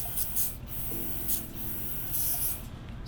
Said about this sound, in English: And so I'm just going to spray that out.